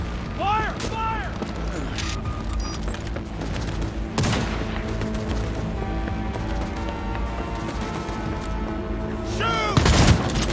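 Rapid bursts of gunfire from a Cyberpunk 2077 firefight keep going throughout, mixed with booms and mechanical clatter, while voices shout over the shooting and a heavy impact lands near the end.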